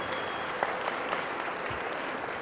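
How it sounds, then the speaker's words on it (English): A crowd applauds broadcast stations at a 2012 broadcasting awards ceremony, with steady, moderately loud clapping and a few sharper individual claps standing out. "big round of applause for all of our stations of the year"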